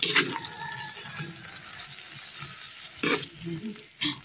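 Bitter gourd (ampalaya) soaked in soy sauce is stirred in a pan, giving soft, wet scraping and sloshing under a low sizzle, with a few louder stirring strokes toward the end.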